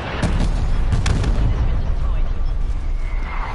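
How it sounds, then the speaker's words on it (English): Incoming artillery strike in Call of Duty Cold War, a dense roar of blasts and explosions with a couple of sharp booms early on, loud and continuous over the short stretch, with a faint in-game voice under it. "Artillery targeting detected."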